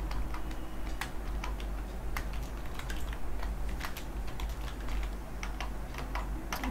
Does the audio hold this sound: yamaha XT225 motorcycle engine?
no